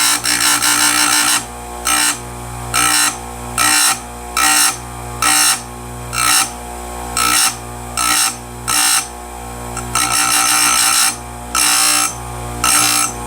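A Stihl USG grinder dresses a damaged chainsaw chain tooth by tooth in repeated short bursts of harsh high-pitched grinding, each about half a second long, over a steady motor hum, with a few longer passes.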